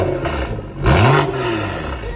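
A car engine revs briefly up close, a short rising roar that peaks and settles back to a rough idle over about two seconds.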